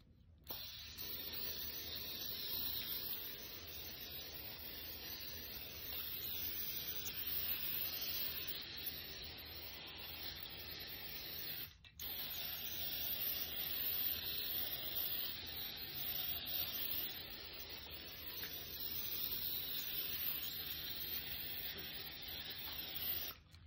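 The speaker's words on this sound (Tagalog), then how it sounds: "Spray ko lang siya ng olive oil." Olive oil sprayed from a pump bottle over seasoned food before baking, giving a continuous close hiss that pauses briefly midway and then resumes steadily, with no talking.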